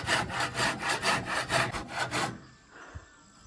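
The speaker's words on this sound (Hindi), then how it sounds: "अभी पापा काट रहे हैं आरी से।" A hand saw rips through timber being cut for a tin-roofed wood storage shed, with steady rhythmic back-and-forth strokes that stop near the end, leaving quiet room tone and a single soft knock.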